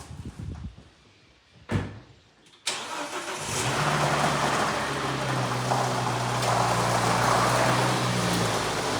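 A car door thuds shut on a 2004 Volvo XC70, then its engine cranks and starts, settling into a steady running rumble close by, at a workshop.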